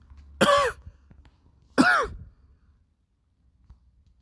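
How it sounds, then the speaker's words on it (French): A person coughs twice, harsh throaty bursts about a second and a half apart, close to the mic in a quiet room, followed by silence. "Excusez-moi si je tousse"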